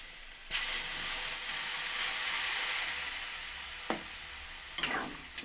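Water poured into a pan of sizzling potato curry sets off a loud, steady broadband hiss and sizzle that lasts several seconds and slowly fades, with a few brief stirring scrapes near the end.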